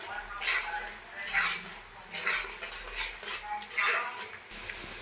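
Cham grass leaf paste being fried and stirred in a pan, a utensil scraping and clinking against the metal in repeated bursts about once a second, over a soft steady background with no talk.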